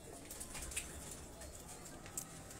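Pigeons on a rooftop in Johar Town, Lahore, coo faintly and repeatedly over a steady hiss of outdoor background noise, with a few sharp chirps and a hint of distant voices.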